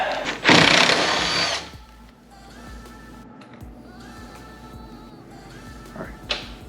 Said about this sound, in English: My impact is probably the weakest Milwaukee you will ever see.